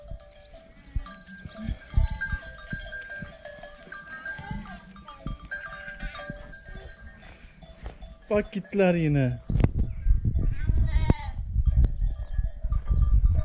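Goats bleat loudly nearby at milking time in a village, with a few quavering cries among clanking cowbells, scuffling and brief talk.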